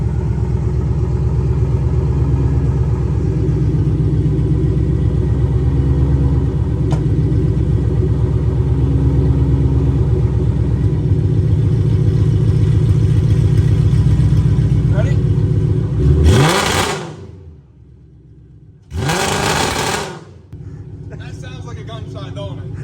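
A Mustang engine fired up for the first time runs loud and steady for a long stretch, then drops off abruptly before two short, sharp bursts of exhaust noise on two-step.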